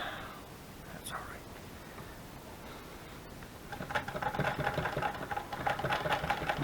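A hand crank sewing machine starts running partway through, a rapid mechanical clatter of needle strokes close by, preceded by soft rustling and handling noises.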